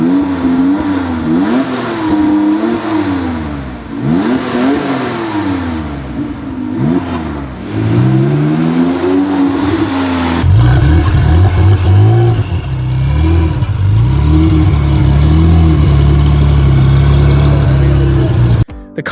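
The 3.7-liter twin-turbo flat-six of a Lykan Hypersport revs loud and close in a series of rising and falling swells, then settles into a heavier sustained roar, with speech over parts of it.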